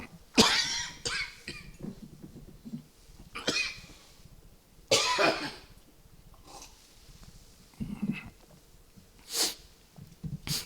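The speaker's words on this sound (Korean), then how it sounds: "해서는 안 될 말을 하니까 기침이 나오네요." Man coughing repeatedly while preaching a sermon, giving harsh close bursts with snorts and throat clearing at irregular intervals, and no words spoken between them.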